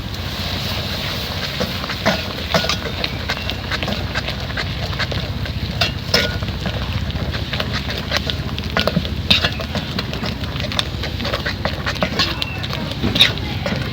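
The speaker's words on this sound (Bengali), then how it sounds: "এখন আমি গুটনা দিয়ে গুটাই নেবো" A wooden masher pounds boiled masoor lentils for a sour dal, making steady, soft, rhythmic thuds and squelches up close over a low background hum.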